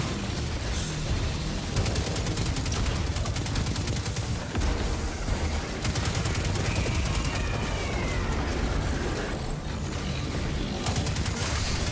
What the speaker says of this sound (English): you can heal the nest of bugs by hip firing into the nest